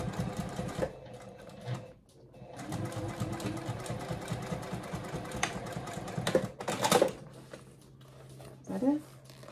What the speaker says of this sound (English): I am going to sew my binding down